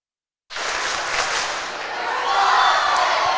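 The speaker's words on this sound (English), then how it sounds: "The fans are having cheering contests." Basketball fans in a packed gym at a boys' high school regional final roar and cheer in a loud, sustained wall of crowd noise that begins abruptly and swells louder toward the end.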